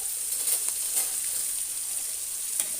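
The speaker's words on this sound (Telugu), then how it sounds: "ఒక ఐదు ఆరు పచ్చిమిర్చి ఇది తిక్కుగా వేయించుకోవాలి" Green chillies and onions fry in a pan with a steady, close, crackling sizzle throughout and faint stirring scrapes. No one speaks.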